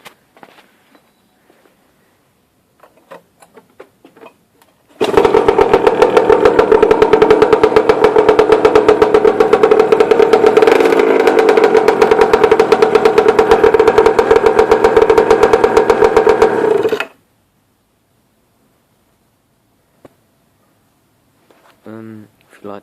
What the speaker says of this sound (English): what I'll do is I'll just give it a quick start up now.